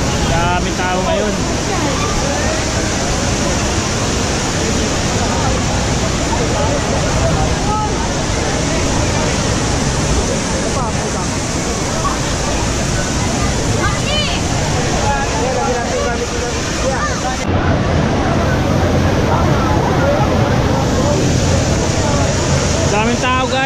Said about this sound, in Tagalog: Yan yung Taytay Falls.